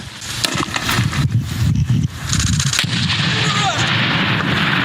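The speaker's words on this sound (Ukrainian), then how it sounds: "Так працює американський гранатомет МК-19." An American MK-19 grenade launcher fires in a rapid, rumbling series of heavy thumps, loud and close, with a dense burst of reports and a brief gap midway.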